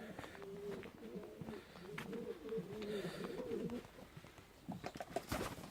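Pigeons in a pigeon house on a farm orchard, giving soft, repeated throaty coos in low rolling phrases, fairly quiet, with light rustling and scattered bird chirps around them.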